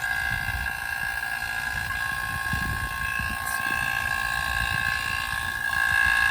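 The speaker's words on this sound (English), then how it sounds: "Sorry about how loud the pump is, but it's pulling a vacuum on it." A loud vacuum pump drones steadily nearby while pulling a vacuum on a car's air-conditioning system, with a low chugging rumble and a sustained whining tone throughout.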